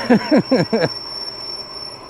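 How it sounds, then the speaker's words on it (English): Brakes squeal on a Jansno X50 e-bike, three short rising squeaks in quick succession, fairly close, then only faint road and wind noise. "Squeaky brakes."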